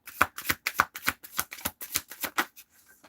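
Playing cards shuffled by hand during a card reading, a rapid series of crisp riffling snaps in a quick steady rhythm, close and clear, tapering off at the end with no talking.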